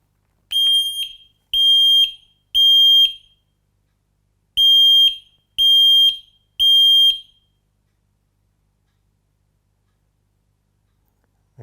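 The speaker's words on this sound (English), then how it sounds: "I'll press the test and silence button on either one of these alarms" A FireAngel Wi-Safe 2 smoke alarm, sounding on test, shrieks in two sets of three piercing beeps with a short pause between sets, loud and close, followed by silence.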